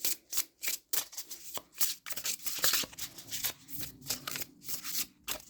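Tarot cards being shuffled by hand, close and fairly quiet: a quick, rhythmic series of papery riffling bursts and soft slaps, repeating steadily with short pauses between them.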